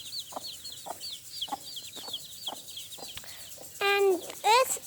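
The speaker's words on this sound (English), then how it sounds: "here the very baby chicks with their mother" A hen with her baby chicks outdoors on a lawn: soft repeated clucks from the mother under steady high peeping chirps from the chicks, then louder bursts of cheeping near the end.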